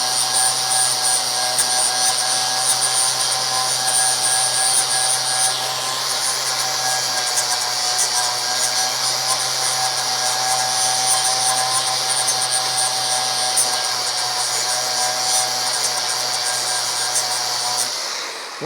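An angle grinder works down a plug weld on the sheet metal of a Charger crew cab car being restored, a loud, continuous high-pitched whine with a steady motor drone that holds for the whole stretch without pause.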